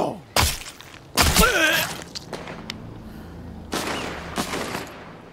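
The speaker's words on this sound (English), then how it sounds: "Wait, are they shooting at me?" Gunfire in The Walking Dead: Saints & Sinners comes in sharp, loud bursts, several separate shot clusters spread over a few seconds, with quieter rustling and movement between them.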